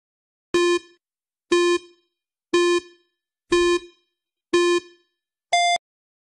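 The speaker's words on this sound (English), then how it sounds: "Timer." A quiz countdown timer gives five identical electronic beeps about a second apart, then a shorter, higher-pitched final beep, clear and alone against silence.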